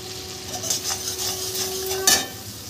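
Chili powder and spices fry in a pan while being stirred, a soft continuous sizzle with scraping strokes and a brief metallic clink near the end, close up.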